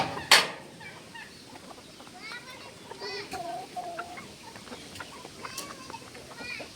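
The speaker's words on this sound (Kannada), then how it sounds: "ಟರ್ಕಿ" Turkeys and country chickens on a farm in Hosakote taluk, Bengaluru district, Karnataka, cluck and call in scattered bursts, one loud squawk near the start, while people talk nearby.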